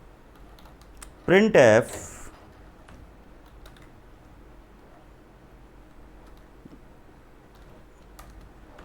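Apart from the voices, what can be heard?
typing C program code on computer keyboard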